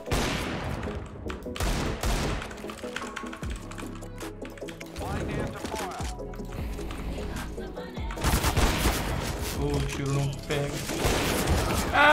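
Rapid gunfire in the Counter-Strike video game, with bursts of automatic shots, single cracks and mechanical clicks over several seconds, loud and close, with people talking throughout.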